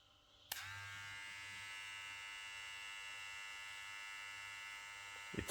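A JRL 2020c hair clipper switches on with a sharp click and then runs with a steady, high-pitched electric motor buzz, close and even, ending with a brief clatter.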